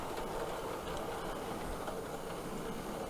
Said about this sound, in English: here we have a modified Bachmann 4F, one with a Midland tender, on a 4-coach train